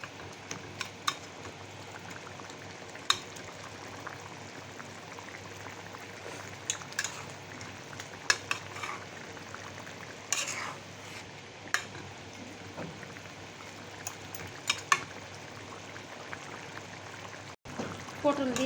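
Koi fish with pointed gourd and ground spices frying in a pan, a low continuous sizzle with scattered sharp clicks from stirring, while a voice talks over it.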